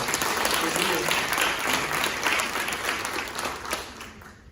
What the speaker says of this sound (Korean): 우리 하나님께 영광의 박수 올려드릴까요?